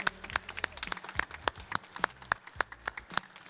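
An audience at a gaming festival applauds players after a match, with sharp, fairly regular claps ringing out over a busy crowd murmur for several seconds.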